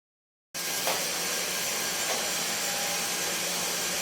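A power drill runs for an installation. It starts abruptly after a brief silence and holds a steady, loud, close whir until the end.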